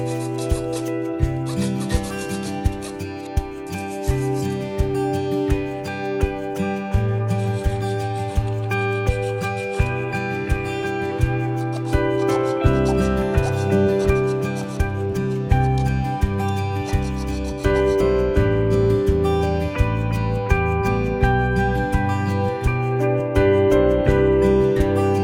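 Hacksaw cutting through a coconut shell to shape a key holder, a rapid rhythmic rasping saw stroke repeated steadily throughout, close and clear, with no talking.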